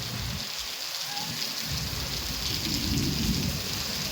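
Heavy rain pours in a steady, dense hiss during a monsoon downpour, while a low rumble of thunder rolls under it and swells toward the end.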